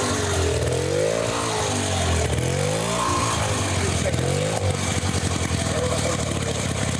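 A 1925 Thomann motorcycle engine revs hard at full throttle, its rising and falling pitch sweeping up and down as it stumbles and labours, loud and close, with people talking over it.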